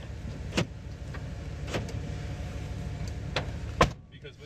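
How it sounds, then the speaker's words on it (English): A car door thuds shut several times in a video game, with sharp separate impacts spread over a few seconds against a steady low background hum. "I'm gonna close the door."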